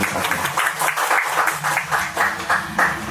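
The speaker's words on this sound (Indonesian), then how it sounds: "Tepuk tangan dulu buat sinematografi." Audience applause at a visual arts and cinematography talk show event in Sragen, a steady patter of many hands clapping close by, sustained for several seconds.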